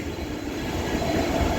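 A train stands or moves at a railway station platform on the Chennai to Howrah route, giving a low, continuous rolling rumble with a metallic edge. It is brief and fairly close, with no talking.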